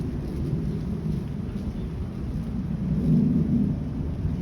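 Steady rain falls outdoors at a teachers' rally in Morristown, New Jersey, a constant low rushing wash with a slight swell near the end and no voices.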